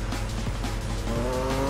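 A BMW M3 E46 GTR V8 race car in Need for Speed roars steadily at high revs, its engine note rising through a gear with faint tire squeal, loud and continuous throughout.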